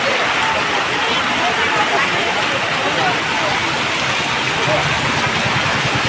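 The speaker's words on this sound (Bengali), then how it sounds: "খুব জোরে বৃষ্টি হচ্ছে দেখো" A dense, unbroken roar of heavy rain fills the scene, steady and loud throughout with no letup.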